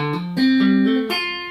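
A short electric guitar lick played alone, a few picked and hammered notes with one sustained bent tone, clean and close.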